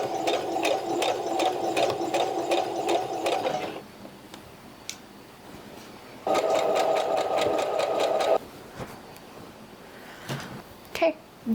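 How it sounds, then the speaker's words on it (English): Sewing machine hemming a button-down shirt being turned into a tank top, with two steady buzzing runs of stitching separated by a short pause, followed by light handling clicks and rustles. "I'm gonna throw it on the machine and like hem it up at least."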